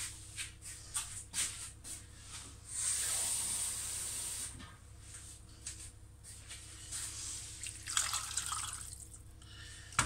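A cooking pot boiling over on a stove, giving off a steady hiss of steam and spray that swells midway and again near the end over a low kitchen hum, fairly faint, with no talk.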